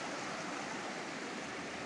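A river flows through the Valle de los Sabinos in Oaxaca's Mixteca region as a steady, even broadband rush of water with no voices.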